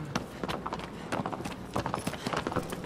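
A horse's hooves clip-clop in the Shadow of the Colossus video game, a quick, uneven series of close, clear hoof falls that continues steadily.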